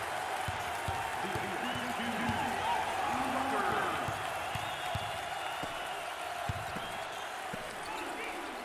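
Fans at a 2023 SEC Tournament basketball game between LSU and Georgia fill the arena with a sustained crowd roar and rhythmic chanting, with sneaker squeaks and ball bounces underneath and a commentator talking over it.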